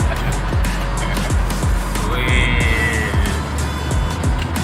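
An old Toyota Kijang accelerates on the road, heard from inside the cabin as a loud, continuous engine drone with steady rumbling pulses. A man gives a brief exclamation.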